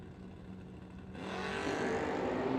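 A Kentucky hot rod and an S10 pickup launch down a drag strip at the No Delay Nationals. A low engine drone suddenly swells into a broad, loud roar that keeps building as the cars pull away.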